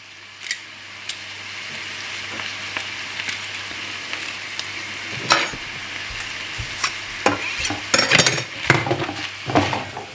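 Garlic cloves fry in a pan with a soft, steady sizzle, while occasional sharp clinks and scrapes of a utensil against the pan grow busier toward the end, heard close with no talk.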